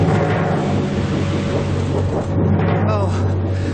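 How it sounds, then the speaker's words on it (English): Thunder sheet rattled as a stage storm effect in a BBC radio drama of The Dresser: a loud, continuous rumbling roar over a deep low hum that fills the whole stretch without pause. "Go, Storm. Thunder Sheet."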